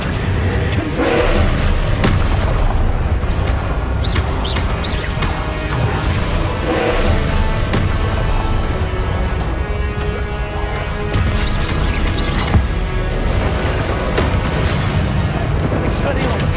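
Spell impacts and explosions from Hogwarts Legacy combat: repeated booms, crashes and heavy thuds over dense game noise, with a voice calling out spell names throughout.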